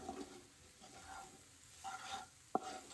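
Cheese meatball bread frying slowly in a little oil over low heat and being stirred, with a faint steady sizzle, soft scraping and one short clack near the end.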